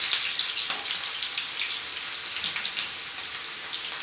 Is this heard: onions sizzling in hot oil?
yes